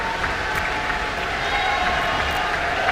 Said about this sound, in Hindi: प्रताप चंद्र सारंगी जैसे ही शपथ लेने मंच पर पहुंचे तो तालियों की गड़गड़ाहट तेज हो गई